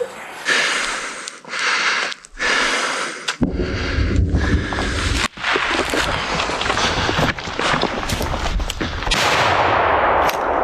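Gunfire during a local assault near Kupiansk, with bursts of loud, sharp shots and crackling volleys repeating at close to middle range, broken by short gaps.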